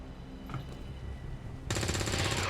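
Gunfire in the video game XCOM 2 as resistance fighters shoot zombies, with a burst of rapid automatic fire starting abruptly and continuing loudly.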